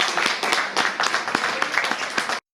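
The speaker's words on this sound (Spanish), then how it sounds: "pido un aplauso muy grande" An audience gives a loud round of applause at a tribute event, with full, even clapping throughout that cuts off abruptly at the end.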